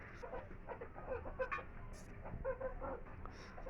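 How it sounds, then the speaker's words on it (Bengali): Chickens clucking softly while feeding indoors, a steady murmur of short calls and pecking with a few brighter chirps, fairly close and continuous without talk. "মুরগিগুলো খাচ্ছে"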